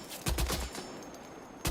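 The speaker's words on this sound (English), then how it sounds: "I'm shooting something." Gunfire in the video game Death Stranding 2: a short, close burst of several rapid shots, a quieter stretch with game ambience, then another sharp shot at the end.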